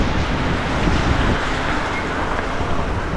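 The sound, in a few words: heavy rain during a motorbike ride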